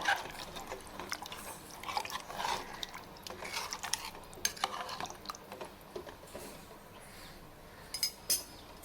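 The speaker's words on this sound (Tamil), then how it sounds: "நல்லா கிண்டி விட்டுக்கோங்க" A spoon stirs and scrapes around a pot of water for tomato rice, with irregular clinks and sloshing close by, fairly quiet and with no talking.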